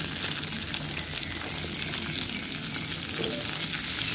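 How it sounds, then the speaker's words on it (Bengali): Potatoes and browned onions fry in oil in a wok, a constant close sizzle with faint stirring scrapes running evenly through the clip. "পেঁয়াজগুলো লাল লাল হয়ে গেছে, ধুয়ে রাখা বটবটি আলুটা দিয়ে দেবো।"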